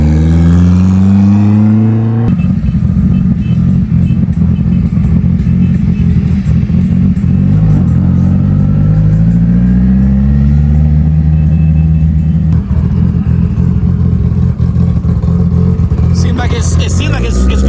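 A Haltech-tuned Mitsubishi Evo roars loudly on a dyno during a test pass, its engine note climbing and dropping through several rising pulls with a rough rumbling clatter underneath.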